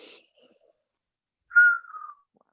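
A single falling whistled tone rings out after a short burst of breathy noise, clear against near silence, during a shoulder stretching exercise session.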